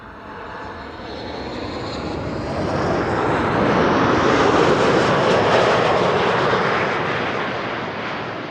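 A WestJet Boeing 737 MAX 8 passes at an airport, its jet engine roar swelling to a broad, loud peak mid-pass and then easing off slightly as it continues, with no voices over it.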